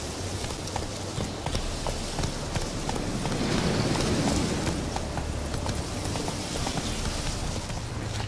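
Hooves of the horse Roach clip-clop at a steady galloping rhythm in The Witcher 3, close and continuous over ambient game sound, with no talk.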